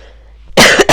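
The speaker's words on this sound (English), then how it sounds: "So if I'm coughing and all that, it sounds gross." A single sick person coughs, a short harsh burst of two or three loud coughs close to the microphone. It follows a moment of near silence.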